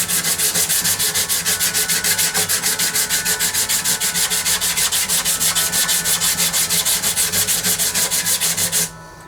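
A sanding block works pore filler on wood in fast, even back-and-forth strokes. The scratchy rubbing is loud and close and runs steadily for about nine seconds before stopping abruptly, with no talk.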